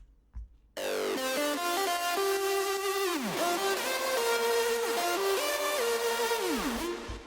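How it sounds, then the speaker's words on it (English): Many layered overdubs of one singer's voice form a crowd, singing a sustained, sliding melody together, steady and full after a brief quiet start. "I recorded myself like 20 times and multiplied it and made a crowd effect out of it."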